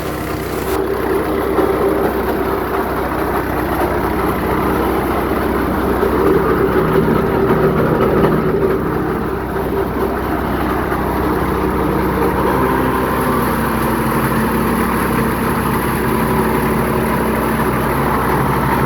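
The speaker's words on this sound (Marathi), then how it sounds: "एका दोरीमध्ये हे इंजन चालू होतं" A small petrol engine powering a chaff cutter runs steadily at close range, a continuous droning hum with a faint rattling texture and no voices.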